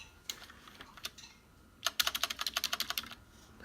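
Brown-switch mechanical keys on an affordable RGB LED keyboard clack close by, first a few scattered presses, then a quick, steady run of crisp strokes.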